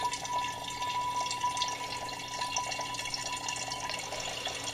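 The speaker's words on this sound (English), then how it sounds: "you can see the wine filtering into this jug" Homemade strawberry wine siphons through a filter into a jug as a soft, continuous trickle and drip, faint and steady, with no voices.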